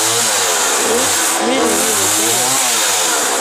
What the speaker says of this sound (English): Andrew is sawing a bunch of trees down, branches from that tree,